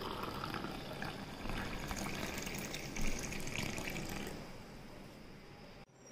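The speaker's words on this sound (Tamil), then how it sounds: "கஷாயத்தை வந்து நம்ம கிளாஸில் ஊற்றிக்கலாம்" Ginger, turmeric and palm sugar kashayam pours steadily into a glass, a continuous close liquid gush for about five seconds that then tails off.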